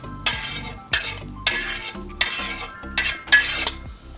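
Sautéed onion scooped out of a pan into a mixer jar, giving several spaced scraping, clinking strokes of a spoon against metal, close and fairly loud, with no talking.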